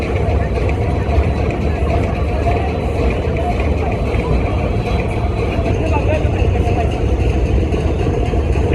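A Barisal–Dhaka passenger launch ferry, the Prince Awlad 10, runs its engine in reverse gear, giving a loud, steady, close droning rumble with heavy low churn that continues without a break throughout.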